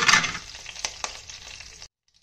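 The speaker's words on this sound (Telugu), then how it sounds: "ఇంగువ ఇవన్నీ వేసి తాలింపు వేగాక మనం మెత్తగా గ్రైండ్ చేసి పెట్టుకున్న వెల్లుల్లిని వేసేయాలండి." Ground garlic hits hot oil in a tempering of dried red chillies and asafoetida for garlic rasam, giving a bright sizzle that starts loud and settles into steady crackling with a few stirring clicks, then stops abruptly.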